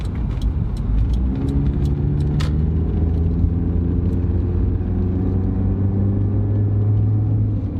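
A slow car fitted with an aftermarket intake idles and rumbles loudly and steadily close by, a deep droning engine note with a few light jingling clicks over the top.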